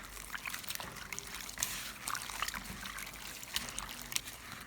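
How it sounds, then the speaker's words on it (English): Water trickles and splashes steadily while shrimp are rinsed in a bowl, a soft, close, continuous pouring and dribbling sound with small irregular splashes. "Pour out the dirty water, replace it with clean water,"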